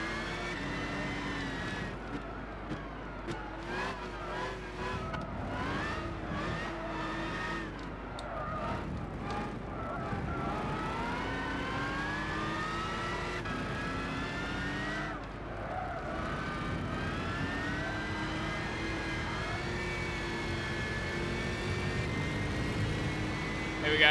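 Historic racing cars in the video game Gran Turismo 6, a continuous engine drone that rises and falls as cars rev and pass, with someone talking over it throughout.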